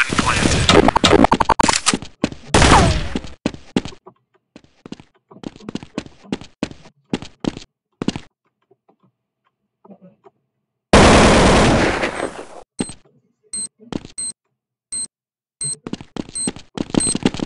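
Counter-Strike 1.6 gunfire on the Dust 2 map comes in loud, close bursts of rapid shots, a dense volley, then scattered single shots, a quiet pause, and another heavy burst followed by spaced shots and footsteps.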